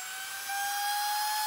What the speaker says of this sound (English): then I can turn the pump on for you so you can hear what it's like